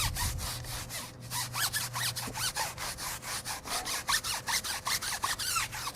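Stiff-bristled Detail Factory brush scrubbing grimy, browned wheels on a 2022 Ford F150 Platinum, a steady run of rapid back-and-forth rasping strokes close up, with a faint low hum underneath.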